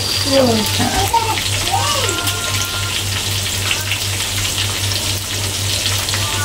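Onions frying in a pan while fish cooks, giving a steady close sizzle and crackle with a low continuous hum, plus brief speech and clinking at the start.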